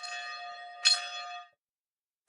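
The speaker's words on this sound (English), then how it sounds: "We have the church bells that are making a lot of noise." Church bells ringing in Italy, a bright sustained metallic tone with a second strike near the middle, then the ringing cuts off into silence.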